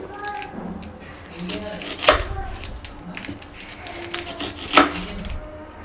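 A knife cuts through an onion on a board, giving a few sharp chopping thuds at close range amid quieter handling sounds and soft kitchen noise, while someone talks.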